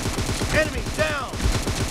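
Rapid automatic gunfire in PUBG team deathmatch, a dense stream of loud repeated shots over the full span, with a couple of voice-like callouts layered on top.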